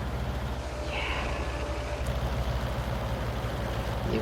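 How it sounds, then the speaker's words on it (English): A tank engine in World of Tanks gives off a steady, low, droning rumble with a constant mechanical hum, heard alone and at an even level throughout. "New engine sounds, new gun sounds."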